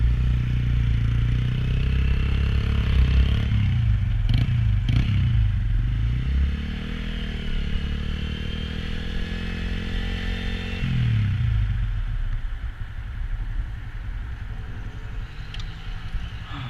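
A Honda Grom motorcycle rides on a road in El Paso, Texas, its small engine droning loud and close with wind rumble, easing off midway and then picking back up.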